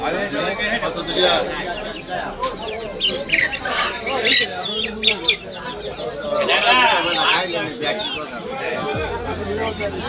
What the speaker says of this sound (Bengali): হাঁস হাঁস মুরগি কিন্তু বিক্রি হচ্ছে এই যে বাজারে